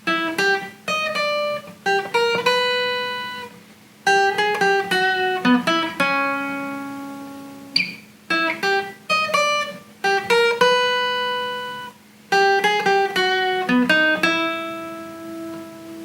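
A full intermediate-level guitar riff played from start to finish in repeated phrases of plucked notes and chords, each phrase ending on a sustained ring before the next begins, clear and alone with no talking.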